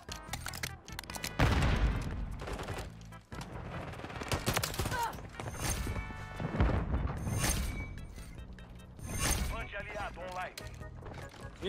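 Repeated gunfire bursts and shots from a shooter video game, with a player under fire from a house, mixed with loud game effects and talk throughout.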